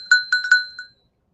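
A vintage hand bell with painted flowers, hung on a leather strap, rings four quick bright strokes and a softer fifth, close and clear, then fades into silence.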